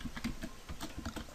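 Java code being typed on a computer keyboard: rapid, irregular keystrokes clicking close to the microphone, with no one talking.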